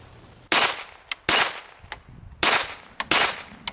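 Four loud, sharp pistol shots fired at a tree outdoors, spaced unevenly across a few seconds, each with a short ringing decay and no talking.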